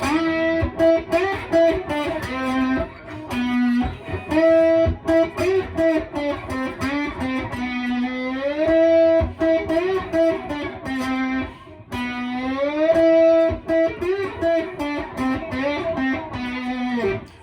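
A distorted electric guitar plays a repeating riff, loud and sustained with bent notes and short pauses between phrases, with no voices.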